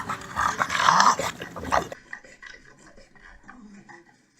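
Labored, obstructed breathing from a brachycephalic dog with airway syndrome, a loud rasping, snorting noise for about two seconds that then falls away into a faint, gurgly wheezing trail.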